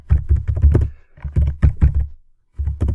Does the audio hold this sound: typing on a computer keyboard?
yes